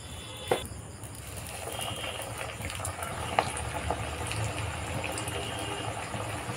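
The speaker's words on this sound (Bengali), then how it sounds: "এবার কাটলেটগুলো এক এক করে ভাজতে থাকবো।" Jackfruit cutlets fry in hot white oil, a continuous close bubbling hiss over several seconds, with a couple of brief clinks near the start and middle and no speech.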